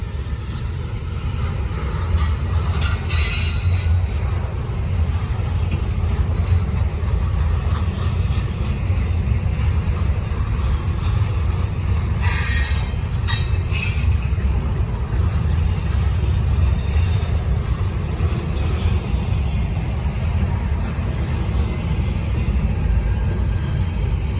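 A Norfolk Southern freight train of container cars rolls past on the Charlotte District, a steady loud rumble and clatter that holds unbroken for the whole stretch.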